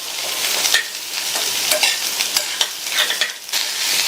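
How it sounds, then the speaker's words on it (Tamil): Green beans sauté in hot oil over a high flame, a loud, bright continuous sizzle broken by stirring scrapes and clicks at close range. "இந்த பீன்ஸை எண்ணெயிலேயே ஹை ஃப்ளேமில் வச்சு ஒரு 2 நிமிஷத்துக்கு வதக்கிக்கலாம்"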